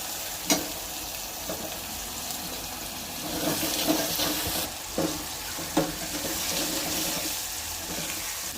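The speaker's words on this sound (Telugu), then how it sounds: "ఈ వేడి నీళ్ళు పప్పు ఇందులో వేసుకుంటూ వేడి నీళ్ళు పోసుకుంటే పప్పు తొందరగా ఉడుకుతుంది" Hot water poured into masala dal cooking in a pan gives a steady hiss and sizzle, with a few sharp stirring clinks scattered through. No one speaks.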